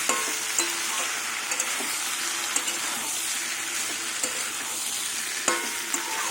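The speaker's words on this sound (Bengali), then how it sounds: "আদা দিয়ে কষানো হয়ে গেছে বেশি কষাবো না তাহলে আবার তেতো হয়ে যাবে পুড়ে যাবে আদাটা" Ginger and five-spice (panch phoron) sizzle and fry in a pan for a vegetarian mixed-vegetable curry with drumsticks, a steady close hiss broken by occasional clinks of a spatula stirring.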